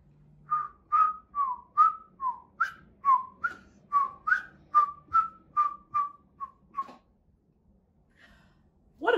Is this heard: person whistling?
yes